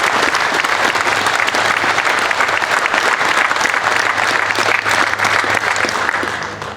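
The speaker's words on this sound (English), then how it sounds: "Let's give this group of cows one big round of applause." A crowd gives a big round of applause for a group of Holstein cows at a summer dairy show in Ontario, dense continuous clapping for several seconds with a low steady hum underneath, tapering slightly at the end.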